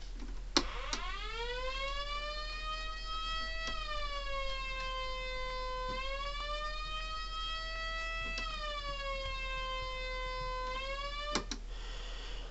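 A Megablaster Jr. mini tornado siren sounds a steady wailing signal, its tone rising and falling slowly in long sweeps over about twelve seconds, loud and continuous, with a couple of clicks near the start and end.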